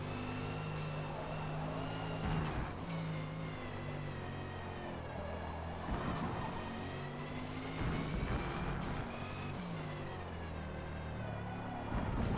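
A 2021 Audi RS 6 Avant engine droning steadily in Forza Motorsport at VIR, a sustained mid-pitch hum with gentle rises and dips in revs, held constant throughout with no voices over it.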